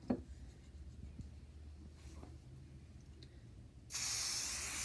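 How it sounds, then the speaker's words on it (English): An aerosol can of basting adhesive gives a short, close hiss as it sprays onto quilt batting, following a few seconds of quiet rustling and handling. "just kind of spray a little bit and put your batting on and smoosh it out"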